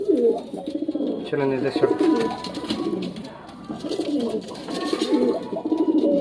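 Pigeons cooing in a loft of low-flyer tournament birds, close, repeated throaty coos rolling on and off throughout, with someone speaking briefly among them.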